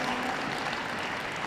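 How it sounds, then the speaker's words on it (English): Audience applause in the ring at a dog show's gundog group judging, a brief burst of steady, fairly soft clapping. "A big round of applause to those other four shortlisted group finalists as they leave the ring at the top"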